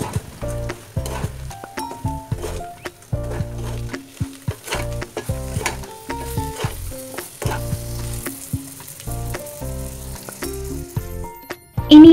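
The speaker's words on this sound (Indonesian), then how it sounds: "Aduk-aduk sampai tempe dan bumbu tercampur merata" Fried tempeh is stirred into caramelized spices in a pan for tempe orek, a steady close sizzle broken by rhythmic scraping and clinking of a spatula throughout, with no voices.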